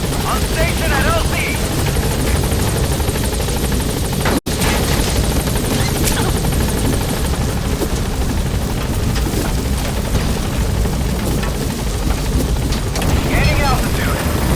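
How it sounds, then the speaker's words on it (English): A helicopter in the video game Metal Gear Solid V roars loud and steady throughout, a constant dense rotor and engine wash with voices talking over it. "Все огневые силы против вражеского вертолета."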